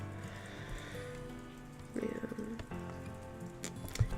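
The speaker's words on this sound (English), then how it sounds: "I do enjoy the rain." Light rain patters softly and continuously in the background, faint and close, while a voice speaks briefly over it.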